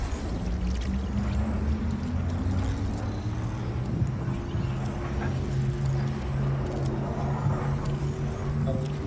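A car in the video game Fortnite drives steadily through the whole stretch, its engine a continuous rising drone with a broad rushing noise over it, loud and unbroken, with no talk.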